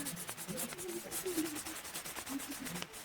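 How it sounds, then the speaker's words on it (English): A wood sample is sanded by hand with sandpaper, producing close, continuous rasping strokes that rub back and forth in a quick, uneven rhythm, with no talking. "with this size of sandpaper, you just use your hands manually like this"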